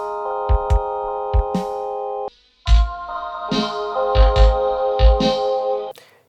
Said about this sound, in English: it is basically a delay with a resonant low-pass filter that creates some really cool resonator sounds